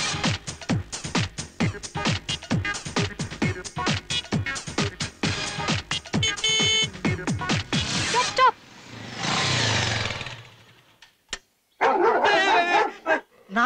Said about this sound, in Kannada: ನಾಯಿ ಕಣ.